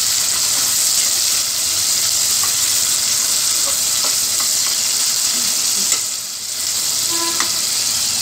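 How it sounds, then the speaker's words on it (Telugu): Fenugreek leaves fry in hot oil while a village-style mutton curry is cooked, giving a steady loud sizzle with occasional scraping stir sounds, no voices. "నూనెలో మెంతికూర బాగా గోలాలి."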